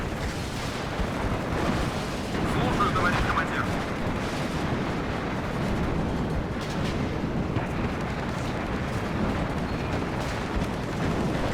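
Artillery bombardment in the strategy game WARNO, a continuous roar of heavy explosions and rumbling impacts blending into a dense, loud wash with no clear gaps.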